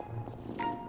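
A cat purrs in a Genshin Impact story scene, a soft steady rumble close by under faint ambient game music, lasting about a second.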